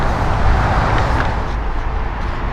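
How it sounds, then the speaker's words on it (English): Steady roadway traffic on the 104 Expressway, heard near a historic pioneer cemetery in Irondequoit, as a continuous low rumble and hiss of passing cars and trucks at a moderate distance, with no talk. "you could probably hear the traffic going by"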